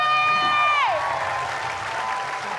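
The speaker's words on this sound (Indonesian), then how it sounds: "tepuk tangan sekali lagi untuk Rocky" A studio audience at a televised comedy show applauds, a steady crowd of clapping that follows a short tonal musical sting sliding down in pitch.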